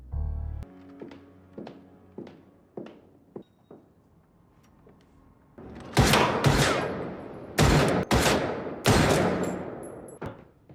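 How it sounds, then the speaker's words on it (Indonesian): Gunfire in a drama scene: a run of soft knocking thuds, then four or five loud, sharp shots in quick succession, close and forceful. "Minkyu menyambut Boksun dengan tembakan peluru di sekitarnya."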